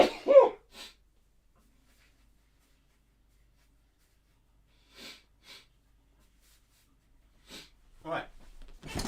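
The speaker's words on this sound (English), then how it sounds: "Sneezed." A person sneezes once, sharp and close, followed by a few faint breathy sniffs and small sounds amid near silence.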